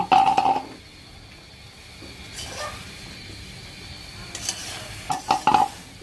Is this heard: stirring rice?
yes